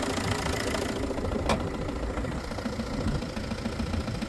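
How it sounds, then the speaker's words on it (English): A Ford diesel engine idling with steady rattling clatter, close and continuous, with a faint rhythmic knock buried in the rough running. "it's hard to hear over the regular diesel clatter, but it is there, believe me"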